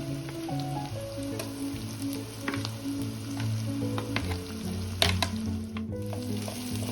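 Ginger garlic paste, curry leaves and onions fry in hot oil with a steady, close sizzle and occasional stirring clicks, under a low tonal hum.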